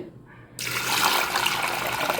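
Water pours steadily into a pan of green pea kurma seasoned with salt and turmeric, a sudden loud rush that starts after a short quiet moment and keeps going without a break.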